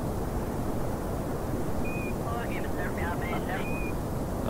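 Aircraft engine throttling up in Kerbal Space Program, a loud constant roar filling the whole stretch with faint tonal chirps partway through.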